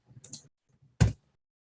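Keys tapped on a computer keyboard, a few soft scattered clicks followed by one louder sharp keystroke, close and isolated in quiet.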